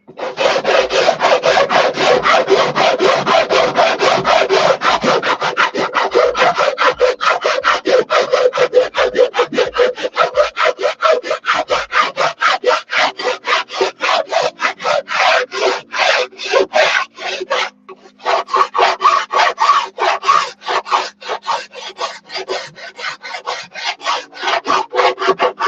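A blade held on edge like a cabinet scraper shaves high spots off wood, making loud, continuous rasping strokes that speed into a rapid, even rhythm, close by with no talk.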